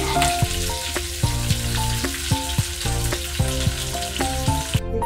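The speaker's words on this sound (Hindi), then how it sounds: "देखिए ऐसे करके कॉलीफ्लावर और आलू को फ्राई कर लूंगी।" Cauliflower and potatoes frying in oil in a pan, a constant sizzle running beneath melodic music with plucked, rhythmic notes throughout.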